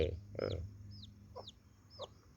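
A few short chirping clucks from a hen, spaced about half a second apart, with a fainter low rumble underneath.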